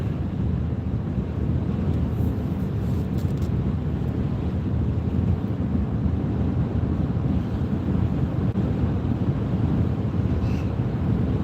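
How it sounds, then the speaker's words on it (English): Steady, rushing wind buffets the microphone continuously on a river, with a low roar like gusts over open water. "Getting pretty windy down here on the river."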